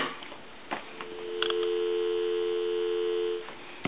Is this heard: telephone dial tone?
yes